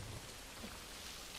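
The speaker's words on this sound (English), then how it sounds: "This rain ain't gonna do us any good." Steady rain falls in the video game The Last of Us, a continuous broadband hiss of drops on surfaces with no voices, alone and fairly constant throughout.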